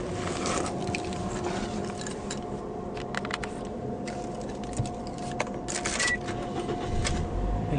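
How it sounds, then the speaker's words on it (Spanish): A Toyota Yaris with an automatic transmission runs steadily after starting, a loud, continuous engine hum with a few clicks and rattles on top, and no talking. "El vehículo enciende correctamente"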